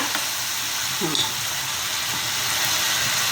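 A mint and tomato chutney with tamarind and jaggery simmers and bubbles in a pan, giving a steady close hiss with a faint clink near the middle.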